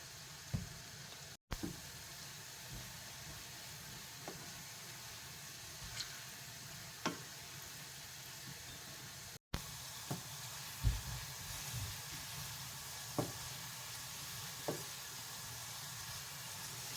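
Food sizzles steadily in a pan as it is stir-fried and begins to brown, a soft continuous hiss broken by occasional scrapes and clinks of stirring, close by with no talking.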